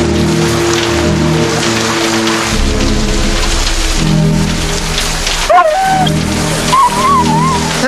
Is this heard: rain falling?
yes